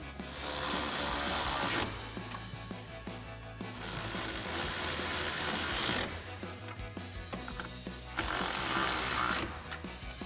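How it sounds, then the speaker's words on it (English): Rapid ratchet clicking from a 10mm socket tightening nuts onto studs while mounting a powered heated towing mirror on a 2011-2016 Ford F-250, in bursts of steady close ratcheting separated by brief pauses. "we'll go ahead and get the rest of our nuts put on our studs using our 10mm socket on our ratchet"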